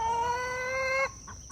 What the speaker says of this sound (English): And then we have the most spoiled chickens in Southwest Missouri.